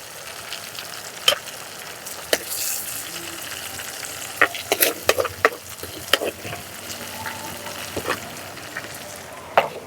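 Tomatoes fry in hot oil with a steady, close sizzle and crackle, broken by sharp pops and scrapes of stirring spread through the clip. The cooking is part of preparing a Kerala-style lunch of jackfruit and pearl spot fish.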